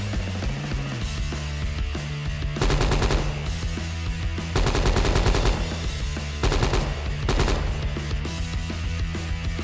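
Full automatic gunfire from an M4A1-style assault rifle in a video game, three loud sustained bursts of rapid shots over a steady droning background, with no talking.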